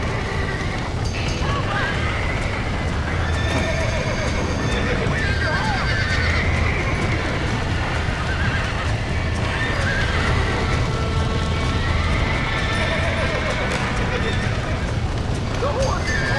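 Horse neighs and hoofbeats in the Red Dead Redemption video game, rising through a dense, continuous game soundscape with steady background noise and voices talking throughout.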